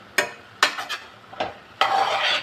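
A spoon stirring cashews into carrot halwa in a pan, several short scraping strokes followed by a longer sustained scrape, close and clear with no talking.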